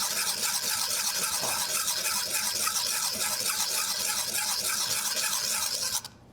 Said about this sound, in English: just whisk that butter in